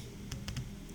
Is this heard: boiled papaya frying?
no